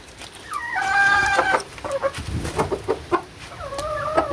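A hen clucks and calls repeatedly at close range, with a few rising squawks and soft clucks between them, no talking.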